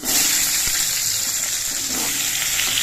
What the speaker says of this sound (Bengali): কাঁচা লঙ্কাটা একটু ভাজা হয়ে যাওয়ার পর এর মধ্যে সবজিগুলো দিচ্ছি